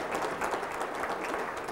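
Steady audience applause from a seated crowd at a realtor professional standards mock arbitration hearing, dense continuous clapping at moderate loudness with no voices over it.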